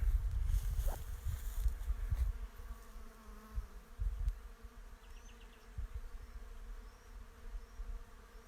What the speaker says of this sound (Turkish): kısmetini arayan bir arı bir çiçekten diğer bir çiçeğe geçerek